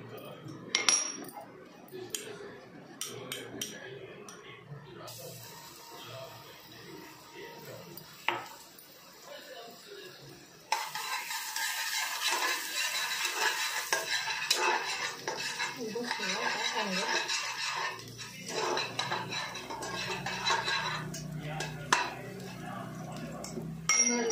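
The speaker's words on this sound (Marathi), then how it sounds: "आपण लसूणची फोडणी द्यायची." Crushed garlic sizzles in a little oil for a mutton dish, starting with clinks and scrapes of utensils against the pan before a sudden, steady, loud crackling sizzle takes over for the second half of the clip.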